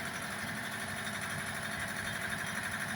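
A Dongfeng DF-404G2 tractor with cabin and BK-215 excavator attachment runs its engine at a steady 1500 rpm, a constant close mechanical drone with no talk.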